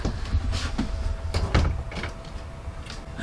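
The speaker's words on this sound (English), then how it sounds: "this door, if you're not perfectly level, instead of the sliders, it will actually latch and close" A pantry cabinet door swings shut and latches with a few soft knocks and clicks, close by in a quiet room with a faint steady hum.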